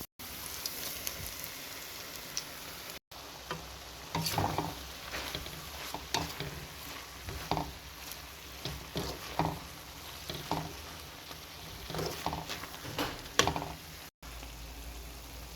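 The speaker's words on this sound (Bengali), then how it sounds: "ভাজা হয়ে আসছে, এখন আমি এই ফোড়নটা সবজিতে অ্যাড করব।" Mixed vegetables fry and sizzle steadily in a hot pan with a spice tempering while a utensil scrapes and stirs in repeated short bursts.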